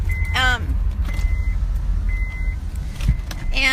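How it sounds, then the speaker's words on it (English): Inside a car, the engine rumbles steadily while short electronic chime tones sound intermittently and the power window motor whirs, with brief mechanical clicks near the start and end. "I'm going to turn my car on real quick and roll up the window."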